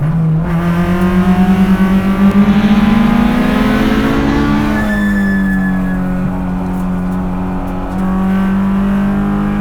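Honda S2000 time attack car engine revving hard through the gears, a loud, close, rising high-pitched wail that drops at a shift near the middle and climbs again, with no talk over it.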